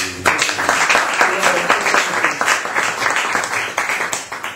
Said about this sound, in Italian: Facciamo un applauso benvenuto a tutti.